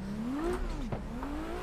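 A video game car drifts sideways through the big main section of Tomata Circuit, its engine note rising and holding steady, close and continuous with a faint tire hiss, no voices.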